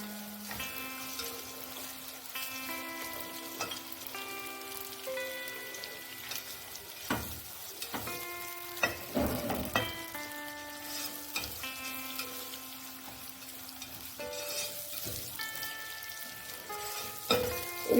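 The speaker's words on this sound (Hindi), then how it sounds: "इसको मैंने अच्छे से भूनना है ताकि ये प्याज अच्छा सा गोल्डन सा ब्राउन शेड दे ले" Chopped onion fries in a pan for aloo kachalu, a soft continuous crackle and sizzle under melodic background music, with occasional scraping stirs.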